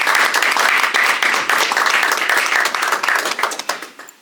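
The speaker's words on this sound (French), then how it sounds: "Est-ce que nous pouvons les applaudir," A crowd at a Congolese diaspora gathering in Ottawa applauds steadily, dense clapping filling the space before thinning out into scattered claps at the end.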